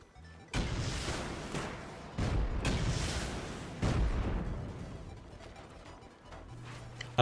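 Rocket explosions from a large base raid in the game Rust, three heavy booms spaced a couple of seconds apart, each with a long rumbling decay, fairly quiet and distant overall.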